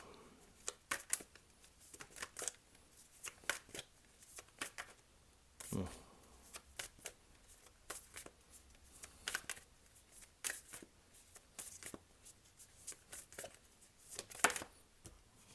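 A deck of tarot cards is shuffled over and over in quick, crisp riffling bursts and flicks, close and fairly quiet, with faint soft speech at times.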